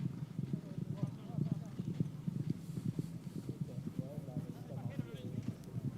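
Polo ponies gallop across the field during a match, their hooves making a steady rapid clip-clop rhythm, moderately distant, under continuous commentary.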